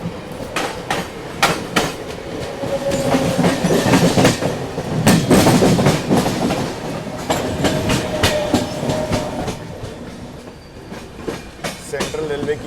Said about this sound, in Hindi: सामने आप देख लो हार्बर लाइन से जो लोकल आ रही है